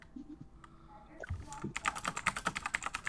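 Rapid keystrokes on a computer keyboard, a steady clatter of closely spaced clicks that picks up in the second half, fairly close and alone, at a livestreamed tournament.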